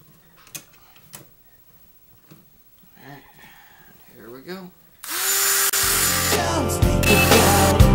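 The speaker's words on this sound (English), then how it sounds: "since you already have your Dremel out" A Dremel rotary tool cuts through a chassis, starting suddenly with a loud, high, grinding whine that runs for the last three seconds. Before it, there are scattered clicks, handling sounds and brief voice-like sounds.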